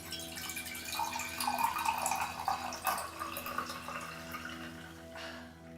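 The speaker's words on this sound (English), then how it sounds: "So just take your tea, pour it in" Herbal tea is poured into a small cat-shaped cup, a soft, quiet trickle and splash of liquid lasting a few seconds before tapering off.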